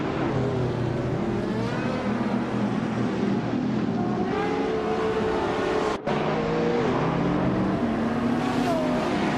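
Several racing cars roar off the line at a video game race start, engines whining and revving in overlapping pitches that rise and shift as they accelerate, loud and continuous with a brief dropout midway.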